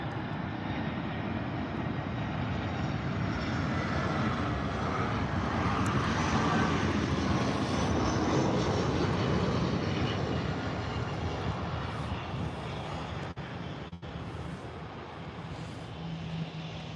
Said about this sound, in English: This little Lufthansa looks like an A320.